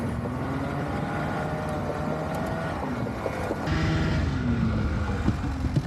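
A snowmobile engine hums steadily as the rider swings through a U-turn, its pitch sliding and wavering, then the motor swells louder near the end as the throttle opens.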